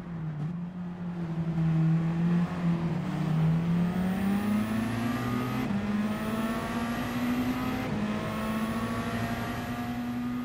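A race car engine in Gran Turismo 7 at the Red Bull Ring holds a loud, steady high-pitched drone, its pitch climbing and dropping through several gear shifts, heard alone without talk.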